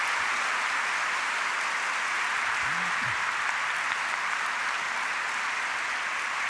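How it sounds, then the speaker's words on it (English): A large forum audience applauds three panelists in a steady, dense roar of clapping that holds evenly throughout, with a brief vocal sound rising in the middle. "And I just want to invite one more round of applause for all three of these panelists for these strong"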